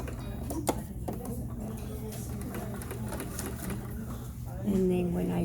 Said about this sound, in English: I'm going on top of the stitch that I already have